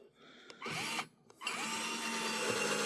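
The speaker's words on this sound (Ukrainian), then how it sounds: "А ну давай, досвердлюй." A power drill bores through a steel rail, whining steadily with two short pauses where the bit stops and restarts, close and loud with no talking.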